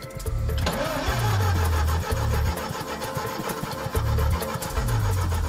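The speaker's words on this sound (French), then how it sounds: "il va falloir le démarrer le moteur, histoire de voir s'il n'est pas HS." The engine of an old, oversized fire truck is cranked in a series of rhythmic starter bursts that keep churning but don't settle into a clean run, loud and close with mechanical rattling throughout.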